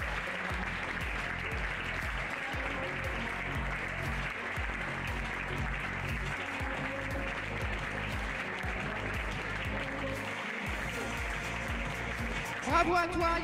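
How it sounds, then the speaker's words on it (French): Audience applause at an equestrian pony eventing prize ceremony, sustained clapping layered with a loud continuous music bed and some voices throughout. "Je vous demanderai de l'applaudir encore bien fort"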